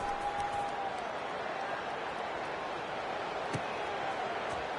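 Stadium crowd at an Alabama football game, a steady, broad roar of many voices with a brief thump partway through, continuous and fairly loud throughout, no distinct cheer peaks.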